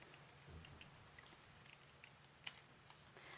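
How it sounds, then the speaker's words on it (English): Scissors snip the embossed edge off a paper card label, producing faint, close crisp cuts over quiet room noise, with a couple of sharper snips near the end. "I'm cutting the little edge portion off from the label,"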